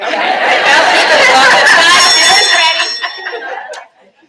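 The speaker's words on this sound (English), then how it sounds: "Bell won't shut up." A bell rings continuously at a public board of education session, steady and loud for several seconds before cutting off, with background chatter and murmuring voices underneath.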